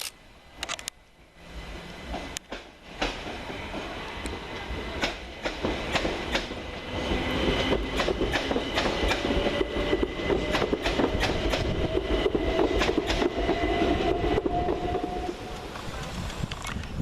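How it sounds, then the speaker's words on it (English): A Class 377 Southern Railway electric train pulls out of Preston Park station, its steady rumble and clickety-clack building loud and close over about seventeen seconds, with a rising whine from the motors. "off and away is 377-469 with the 1252 Southern Railway service to Littlehampton"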